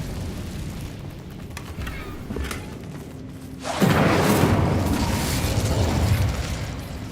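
An Incendio fire spell cast in Hogwarts Legacy sets off a sudden loud whooshing burst of flame partway through, after quieter background game sounds, and the roar holds steadily to the end.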